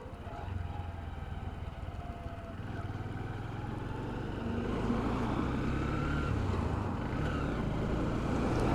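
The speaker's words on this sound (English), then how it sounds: "That's a wafty gear change." Drift Ghost XL motorcycle with an old drum rear brake, engine droning steadily while riding, the pitch shifting and the level rising about halfway through as a gear is changed, with wind and road noise throughout.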